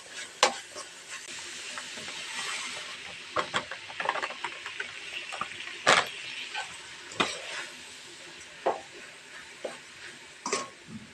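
Semolina is roasted with fried onions in a pan for upma, making a quiet sizzle with frequent sharp scrapes and taps of a spoon stirring the grains. No one talks.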